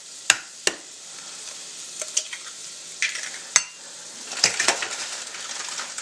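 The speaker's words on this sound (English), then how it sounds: "In the pan, I'm going to stick a little bit of butter in a preheated pan. I'm going to crack me 3 eggs" Eggs cracked into butter in a preheated pan, with sharp shell taps and metallic clicks standing out over a soft, steady sizzle, close by and without talk.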